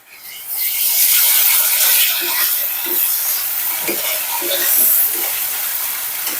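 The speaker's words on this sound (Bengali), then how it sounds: "আদা রসুন বাটা দিয়ে দিয়ে একটু ভেজে নিয়ে" Ginger garlic paste sizzles loudly in a pan while a spoon scrapes and stirs it, giving rough rasping strokes over a bright hiss, near and with no voices.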